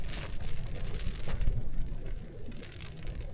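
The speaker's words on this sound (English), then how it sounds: "I think that I can hear rain, because the rain is due." Steady rain hissing and pattering across a surface in near-freezing cold, with a low rumbling undertone and no voices.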